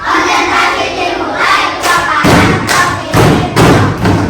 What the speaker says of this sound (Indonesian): coba tepuk meja 1, tepuk meja 2, tepuk konsentrasi.